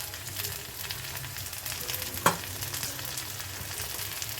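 Half a tomato fries with browned onion in a pan, a continuous soft sizzle with one sharp clink of a utensil midway.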